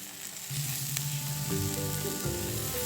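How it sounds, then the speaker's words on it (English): Eggplant frying in olive oil in a pan, giving a steady, close hiss and crackle of sizzling oil throughout. "Then heat the pan and fry it in olive oil for about 10 minutes, until the edges turn golden."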